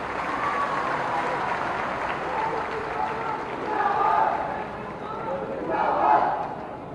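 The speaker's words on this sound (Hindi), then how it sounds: "एक बार जोरदार तालियां रुकनी नहीं चाहिए।" Large crowd at a political rally in India applauding, a sustained broad wash of clapping and crowd roar that swells twice before easing, heard at a moderate distance.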